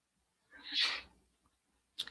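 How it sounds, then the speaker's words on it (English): A man sneezes once, sharply and fairly quietly, in a quiet room, followed by a short sniff or start of another sound. "You guys will have to excuse my husband sneezing throughout the night because my husband got sick."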